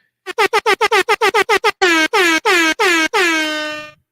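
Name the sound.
air horn sound effect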